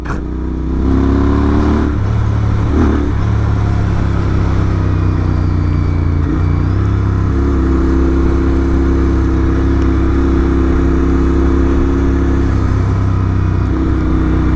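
Royal Enfield Interceptor 650 motorcycle fitted with an S&S camshaft, its parallel-twin engine revving close and loud, steady throaty drone with rising and falling pulls, no talk.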